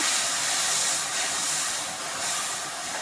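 Water seasoned with turmeric and salt comes to a boil in a kadai, making a steady, close, rushing hiss that holds level throughout with no voices.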